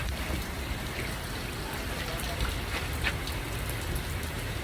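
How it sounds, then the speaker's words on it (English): Rain falls steadily during a thunderstorm, a dense, even hiss of drops on surfaces with a few brief louder spatters, heard alone without talk. "You can hear the thunder. You can see the rain."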